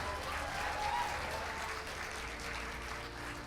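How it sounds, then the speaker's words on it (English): Steady audience applause at a university debate, a dense wash of clapping from a sizeable crowd, sustained at an even level throughout. "I think another round of applause for the speaker who just came here."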